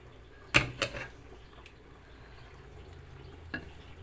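Prawns tipped into a pan of frying gongura leaves, a couple of sharp clatters followed by a soft sizzle and faint stirring, quiet and close.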